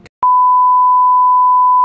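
A single steady electronic phone beep tone, loud and clean, holds for about a second and a half after a short click, with no talk over it.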